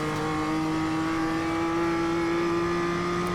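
BMW M2 race car on a track, its engine holding a steady, loud drone with strong tonal harmonics and a slight rise in pitch, close to the microphone throughout.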